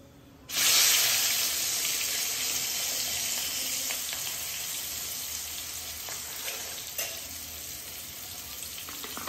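Chicken pieces hit hot oil in a pan with turmeric, setting off a sudden loud sizzle that settles into steady, bright frying hiss with faint stirring clinks; no talking.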